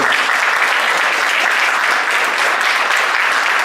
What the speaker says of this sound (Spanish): Denle un aplauso a Jesús si usted lo cree